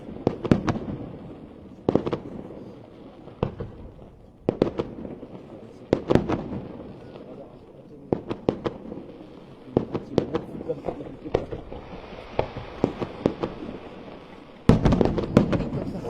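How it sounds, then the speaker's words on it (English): Fireworks bursting over Saumur in the Loire Valley on July 14, a string of sharp cracks and booms in irregular clusters, some loud and close, with a rapid volley near the end and faint crowd chatter between. "I haven't seen a fireworks show for a while."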